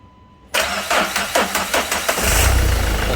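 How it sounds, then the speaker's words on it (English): A car engine cranks with a quick series of rhythmic starter pulses, then catches and settles into a loud, steady idle, close up, with no voices. "you will want someone to start the car"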